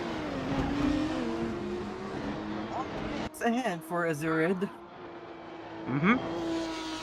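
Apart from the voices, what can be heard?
race cars on track in a racing video game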